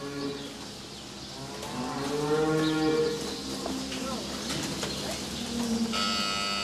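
Dairy cows moo inside a farm barn, several drawn-out calls overlapping at close range over a steady background hum, with a brief higher-pitched bird-like or metallic sound near the end.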